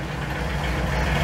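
Engine idling on a Holley Sniper EFI fuel injection setup with a possible vacuum or exhaust leak, a loud, dense, steady rumble close by and unbroken, with no talk.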